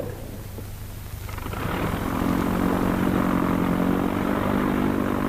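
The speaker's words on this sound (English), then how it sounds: "One by one, the planes take off." Propeller training aircraft from 1942 Indian Air Force pilot training taking off, a loud steady engine drone swelling and holding close by with no talk.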